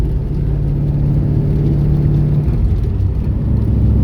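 An LT1 383 Camaro engine runs untuned while driving, a loud, steady low drone and whir heard from inside the car, holding constant with no voices over it.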